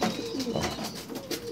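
Pigeons kept for meat coo repeatedly in soft, rolling phrases close by, filling the short stretch without any talk.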